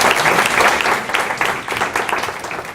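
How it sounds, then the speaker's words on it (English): An audience at an academic colloquium breaks into sustained, loud applause to welcome a speaker, dense clapping filling the whole stretch. "I hope that we all welcome Dr. Green with a very strong applause"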